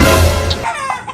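A fighting rooster clucks loudly and close by, a couple of short abrupt calls over a brief burst of background noise.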